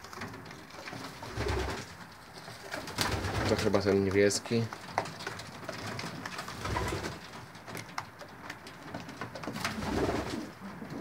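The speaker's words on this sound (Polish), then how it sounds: "Tutaj z późniaków może trafić jeszcze jakiś samiec, bo właśnie słychać grucha." Racing pigeons coo in a loft near the end of their moult, soft rolling coos repeating over several seconds, with one nearby burst louder, under a person's quiet talk.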